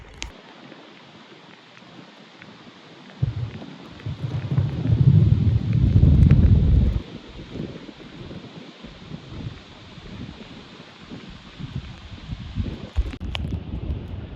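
Wind gusting across Yellowwood Lake in Nashville, Indiana while paddleboarding, a broad low rumbling buffet that swells loud for a few seconds in the middle, then settles into steady, softer blustery noise on the microphone.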